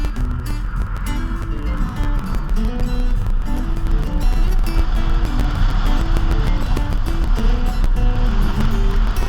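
A small Bobcat skid steer is driven out to a farm, its engine a loud, steady rumble with wavering tones, and heavy wind and road roar run throughout.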